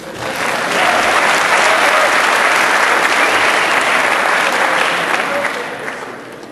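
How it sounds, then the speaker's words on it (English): An audience at a physical security conference session bursts into loud, sustained applause. The clapping swells quickly, holds dense and steady for several seconds, then tapers off. "Give him an applause."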